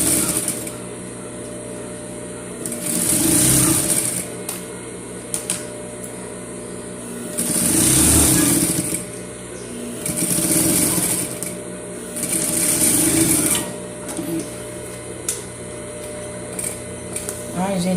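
A sewing machine stitches a seam on a colourful fabric pouch with a lining, running in several bursts of a few seconds each, separated by pauses.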